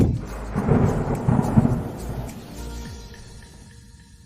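Thunderstorm with heavy rain: loud rumbling thunder rolls over a dense wash of falling rain, swelling in the first seconds and then slowly fading as the downpour continues.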